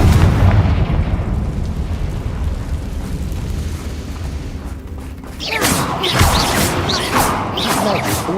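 A Confringo spell explosion in the video game Hogwarts Legacy, a loud rumbling blast that slowly fades, followed by a fresh burst of crackling, fiery impacts and a voice speaking over them.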